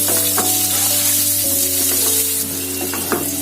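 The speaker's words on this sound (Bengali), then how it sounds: "একইভাবে আমি আলুগুলো ভেজে নেব। আলুগুলোকেও আমার একটু লাল করে ভাজতে হবে।" Boiled potatoes frying in hot oil for a Bengali-style egg curry, a steady close sizzle with a few soft stirring knocks and a faint constant hum underneath, no voices.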